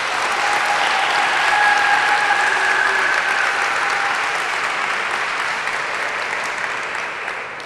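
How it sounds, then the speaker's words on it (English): Sustained audience applause at a graduation ceremony, a dense, even wash of many hands clapping that swells slightly early on and then fades gradually toward the end, with no talk over it. "give her a round of applause"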